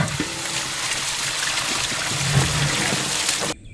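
Water poured in a steady trickle for cooking quail, running continuously and close up for about three and a half seconds before stopping abruptly.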